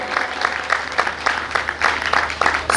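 Crowd at a religious gathering in India clapping in welcome, a brief burst of steady, moderately loud applause.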